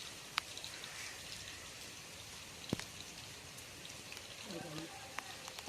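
Light rain falls on a vegetable garden during an okra harvest, a faint steady patter with a few sharper drops striking nearby, and a faint voice in the background.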